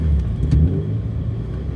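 A BMW M54 inline-six fitted with an M50 intake manifold accelerates in second gear, a steady, loud low engine rumble building throughout with no speech.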